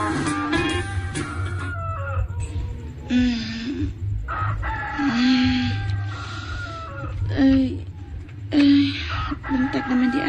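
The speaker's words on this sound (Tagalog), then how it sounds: "Saba ng manok na may tugtugaog." A rooster crows repeatedly in a rural yard, several drawn-out calls spaced over a few seconds, close and fairly loud, with faint talk and background noise underneath.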